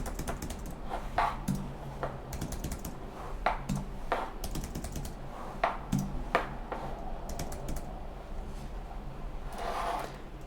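Soft, irregular keystrokes on a computer keyboard while entering credit card details, quick clusters of taps with brief pauses, quiet and close with no talking.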